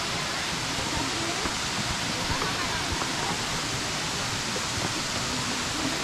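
Steady roaring rush of a waterfall at Minas Viejas in the Huasteca Potosina, broad and constant, with no breaks for the whole stretch.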